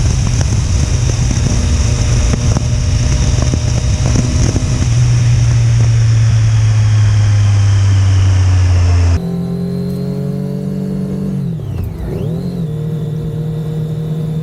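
Triumph Daytona 675R motorcycle engine at speed, a loud, steady high-pitched drone that shifts pitch through gear changes and then sweeps down and back up as the bike slows and accelerates again, with no talk.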